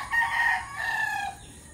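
A gamefowl rooster in a chicken pen crows once, close and clear, a drawn-out call with a rising start and a falling tail, alone with no talk.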